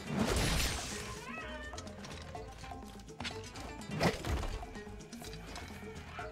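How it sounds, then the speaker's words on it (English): A cat meows in the video game Monster Hunter World, sounding among busy game effects and background noise, with a couple of meow-like calls standing out. "There's another meow."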